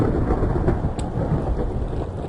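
Steady rain falls with low rumbling thunder in Minecraft, a dense, loud wash of rainfall continuing throughout, with no talk.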